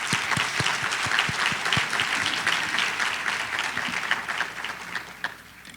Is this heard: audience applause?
yes